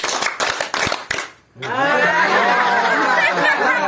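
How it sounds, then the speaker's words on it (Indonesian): A village group at a community gathering in Kebun Kelapa claps in a few quick, loud bursts together, then falls briefly silent before breaking into laughter and lively overlapping chatter. "Tepuk tangan 3 kali"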